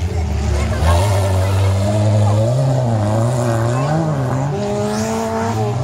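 A race car at the Wrak Race 2019 demolition-style event in Suchodół roars past close by with revving engine and squealing tires, while someone talks over the noise.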